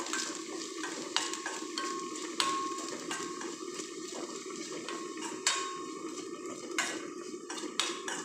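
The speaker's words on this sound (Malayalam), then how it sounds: "സാധാരണ നമ്മൾ തേങ്ങ വറുക്കുന്ന അതേപോലെ തന്നെ നല്ല ചുവന്ന ഇതായിട്ട് വറുത്തെടുക്കുക" Grated coconut roasts in a pan in a home kitchen, with a spoon scraping and tapping against the metal in irregular strokes and soft frying underneath, close and moderately loud with no talking.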